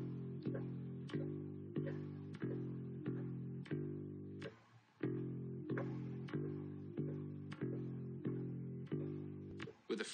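Bass guitar plays a simple two-note riff, repeating evenly with a short break midway, close and clean with no talking.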